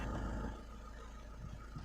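A Mahindra SUV500 with DPF and DEF dosing faults catches and settles into a faint, low, steady idle rumble after a brief louder start.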